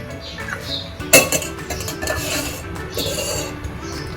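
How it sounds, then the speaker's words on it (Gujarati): A metal bowl set down on a gas stove burner gives a single clear clink near the middle, with faint scraping and rattling of kitchenware around it, close and fairly loud, with no talking. "ગેસ ઓન કરીશું. બાઉલ મૂકીશું."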